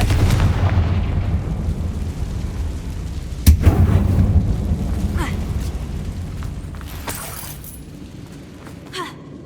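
Confringo blasting spell exploding inside a mine tomb in Hogwarts Legacy, a sudden loud boom with shattering debris and rumble fading over several seconds, brief voice and game ambience around it.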